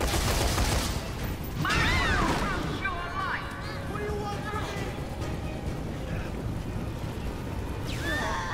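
Gunfire rattles in the Dead Rising 3 video game, with loud bursts of shots near the start and scattered reports afterward under busy in-game noise and effects.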